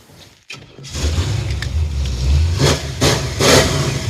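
A big block Chevrolet Impala hot rod engine cranks over, catches and settles into a loud, rough rumbling run, with revs surging and easing as it idles up close.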